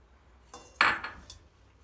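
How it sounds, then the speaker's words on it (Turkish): A short scraping whisk stroke runs through sugar, flour and vanilla in a pot before it goes on the stove. It is a single close burst followed by a fainter touch, with no talking. "Ocağımızı açmadan hepsini karıştırıyoruz."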